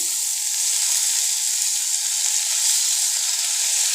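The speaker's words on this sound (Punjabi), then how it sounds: "ਪਿਆਜ਼ ਨੂੰ ਆਪਾਂ ਹਲਕਾ ਜਿਹਾ ਬਰਾਊਨ ਹੁੰਦੇ ਤੱਕ ਪਕਾ ਲੈਂਦੇ ਆ" Chopped onion frying with cumin seeds in a pan gives a steady, close, dense sizzle with a soft hiss, unbroken for the whole stretch with no talking.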